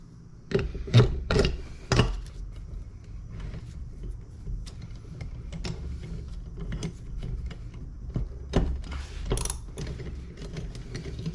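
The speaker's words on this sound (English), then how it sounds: "I'm going to put this one in the vise, tighten it up." A bench vise is cranked tight on a part from a truck suspension kit, the screw giving a run of ratcheting clicks and creaks, louder bursts at first and then a steadier grinding turn, close by with no talk.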